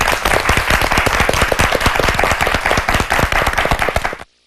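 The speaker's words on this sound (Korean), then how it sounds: "박수로 함께 해주시죠." Sustained applause from a high school debate tournament audience, dense steady clapping for about four seconds that stops abruptly, with no talking over it.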